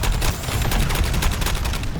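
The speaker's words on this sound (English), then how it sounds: "The cannon is firing its energy weapon." A giant cannon firing its energy weapon in the Suicide Squad Kill the Justice League game during a Brainiac boss fight, a loud, dense, continuous crackling barrage of rapid blasts with a rising whine, filling the space without pause.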